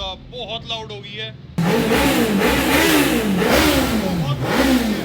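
A Suzuki Hayabusa with an aftermarket Akrapovic exhaust revs loudly and repeatedly with a deep, throaty roar, rising and falling close by, preceded briefly by voices.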